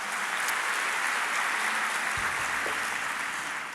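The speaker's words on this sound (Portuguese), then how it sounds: "Dá uma salva de palmas." A church congregation gives a round of applause, a continuous, even roar of many hands clapping that holds steady from start to finish.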